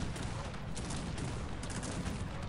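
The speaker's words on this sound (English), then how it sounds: "Cannons. Open fire." Musket volleys and cannon fire from the Cossacks 3 strategy game form a dense, continuous crackle of overlapping shots with low booms underneath, loud and sustained throughout.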